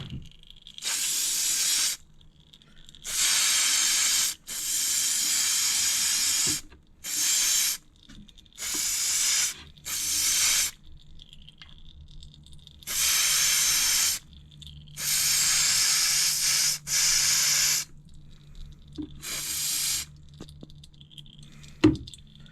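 Repeated bursts of aerosol cleaner spray hiss onto the oil screen of a Yamaha YZ450 dirt bike in short and longer blasts, separated by quiet pauses, close and steady.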